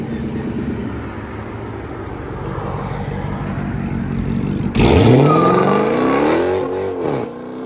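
Procharged Dodge Charger 5.7L with Corsa Extreme rear exhaust and muffler delete pulls away after a steady rumbling idle, engine revving up with a sudden loud roar and rising whine, close by and then fading slightly.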